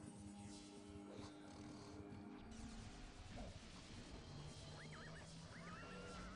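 A horse in the online role-playing game Ultima Online gives a couple of short whinnies near the end, heard over a dense, busy bed of in-game music and effects.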